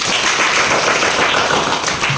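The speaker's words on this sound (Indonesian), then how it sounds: "Tepuk tangan sekali" A class of schoolchildren claps hands together in one burst, a dense, loud, continuous patter of many hands close by filling the whole moment.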